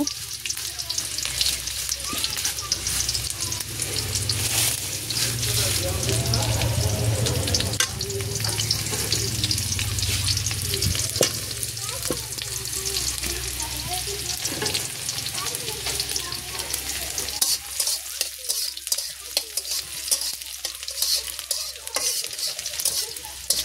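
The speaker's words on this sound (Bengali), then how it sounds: "পেঁয়াজগুলো এখন আমি ভালোভাবে ভেজে নেব।" Chopped onions sizzle steadily in hot oil in a pan in a village kitchen, with repeated scraping stirs throughout and no talking.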